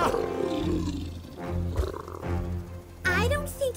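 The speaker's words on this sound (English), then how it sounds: "I don't think it's us the tiger's mad at, Preston." A tiger roars in a cartoon, loud, growling bursts that swell and fade across the scene with music underneath, ending in a rising, animated vocal cry.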